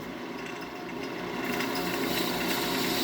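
A skew chisel cuts a chamfer on a wooden yoyo spinning on a lathe, giving a steady, close whirring scrape that grows louder and rougher halfway through, with no voices.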